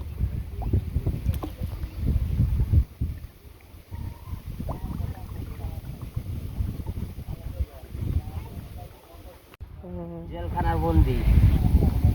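A small boat is rowed slowly across calm water, with soft splashes and water movement under steady wind noise; a brief voice surfaces near the end.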